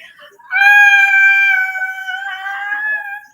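A woman lets out a loud, sustained, high-pitched excited scream lasting a few seconds during a video call, then tails off.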